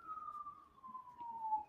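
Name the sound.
police car sirens heard through an open window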